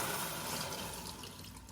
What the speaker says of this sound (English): Go ahead and fill this up with water